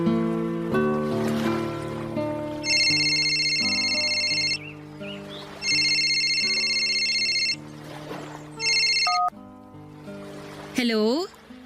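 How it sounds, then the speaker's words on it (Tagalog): A cellphone rings in a Filipino radio drama at Christmastime, sounding as repeated bursts of bright electronic ringtone over steady background music. "tinawagan niya ako sa cellphone ko, Papa Dudut."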